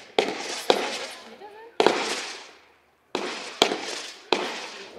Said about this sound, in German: Cluster 70 Schuss, 40 Sekunden Effektdauer, Effekthöhe, circa 40 Meter Cluster